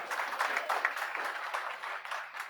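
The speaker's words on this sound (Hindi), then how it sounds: "जोरदार ताली बजा भाई इस बच्चे के लिए" Classmates clap for a student in a coaching classroom, a steady patter of many hands sustained throughout at moderate, fairly quiet level with no voices over it.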